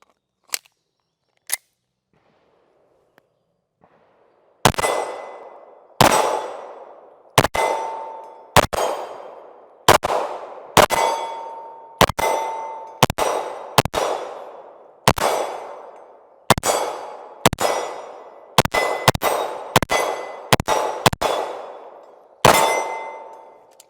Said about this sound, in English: here's my first shots of the TTI Canik